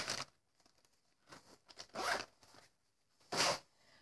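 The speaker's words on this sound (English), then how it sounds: "let me take these markers out of this plastic bag" Markers come out of a plastic bag in a few separate bursts of crinkling and rustling, close and fairly quiet with short pauses in between.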